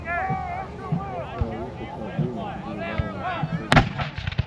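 A Parrott gun cannon fires at a Civil War re-enactment of the Battle of Cedar Creek, delivering one sharp, loud boom near the end while people talk nearby throughout.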